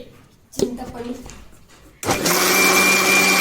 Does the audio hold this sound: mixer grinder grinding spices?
yes